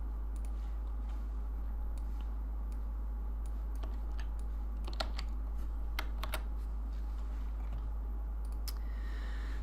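Scattered, irregular keystrokes tap on a computer keyboard over a steady low hum, sharp close clicks arriving in small bursts with no talking.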